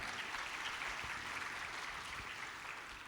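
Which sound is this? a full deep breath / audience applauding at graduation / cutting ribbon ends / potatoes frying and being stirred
audience applauding at graduation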